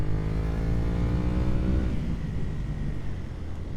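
A Honda VT250 Spada motorcycle putters steadily through town, its engine a low, even drone close by that thins slightly toward the end, with no talk.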